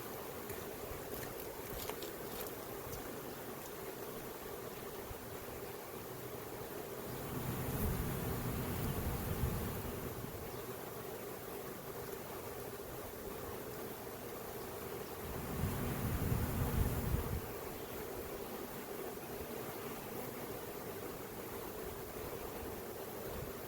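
Steady insect buzzing fills the scene, with two louder low swells as a cluster of bees stirs close by, continuous and busy throughout.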